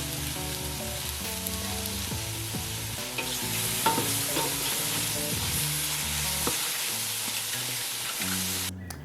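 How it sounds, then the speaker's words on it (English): Mushrooms searing in a hot pan make a dense, continuous sizzle that stays fairly loud throughout, with soft music playing underneath. "Don't touch them, just let them sear."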